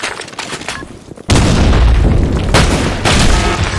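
A grenade explodes in the online shooter Blackshot: a sudden loud, deep boom hits partway through, followed by a sustained rumbling roar with further heavy blasts, after a quieter stretch of game noise.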